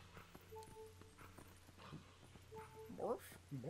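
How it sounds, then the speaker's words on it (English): A dog-like creature barking in the video game Twilight Princess HD, short yips and barks among hoof-like clip-clops and game effects, faint under a player's talk. "I like how it sounds like they actually recorded, like, a real dog"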